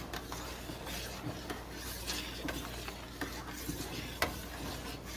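Grape jelly mixture with a pat of butter stirred in a pot: a soft, continuous scraping and rubbing with faint bubbling, a few light knocks of the utensil against the sides, fairly quiet and without talk.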